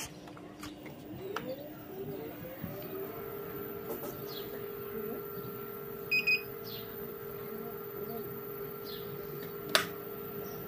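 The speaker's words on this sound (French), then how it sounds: "vous allez entendre un bip-bip qui n'a pas déclenché la lumière" A short double electronic beep from an Urban Glide electric scooter rings out once amid a steady low hum and faint background noise, with a sharp click near the end.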